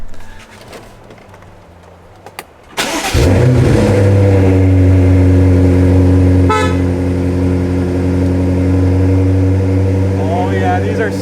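A BMW M5 engine cranks and fires up after quiet rustling, then settles into a loud, close, rumbling idle with a brief blip of revs partway through.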